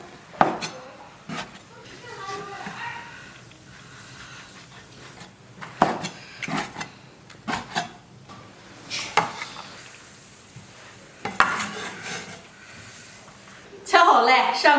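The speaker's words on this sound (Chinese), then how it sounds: "全部切成片" Knife slicing boiled beef large intestine into pieces on a cutting board, giving repeated sharp chops and taps in irregular rhythm, some louder than others, with brief kitchen clatter near the end.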